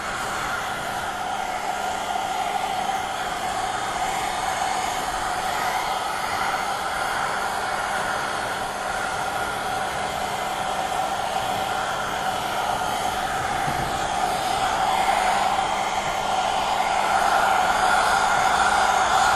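A handheld blow dryer runs steadily close by, its airstream turned down, during blow-dry styling with a curling iron; the whoosh stays constant and alone for about twenty seconds.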